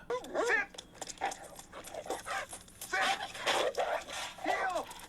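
A dog in the 1986 film Ferris Bueller's Day Off pants and lets out high whimpers and yips in short bursts, close and moderately loud, with voices mixed in.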